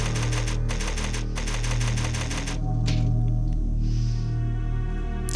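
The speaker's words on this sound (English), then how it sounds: "There's a typewriter!" Typewriter save sound from Resident Evil 0, a rapid burst of close mechanical key clacks in quick rhythmic runs, then a pause and sparse thuds over a steady low hum.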